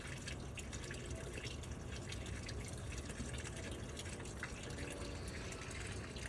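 Water runs steadily from a tap, a continuous splashing hiss at low volume with faint drips mixed in, no voices.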